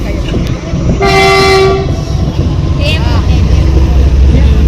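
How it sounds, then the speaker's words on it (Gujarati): A train rumbles past with a loud horn blast, steady rolling noise throughout and a brief squeal near the end. "ત્યારે રેલગાડી નીકળી છે"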